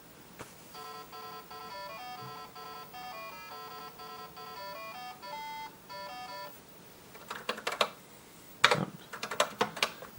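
A thin, beeping sound board in a vintage iPDS computer plays a quick William Tell Overture melody in square-wave tones, followed by clattering keyboard typing.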